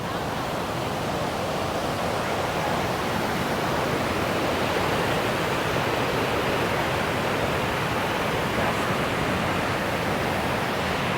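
Niagara Falls thunders as a steady, loud roar of crashing water, a dense unbroken wash of noise that holds evenly throughout with no pauses.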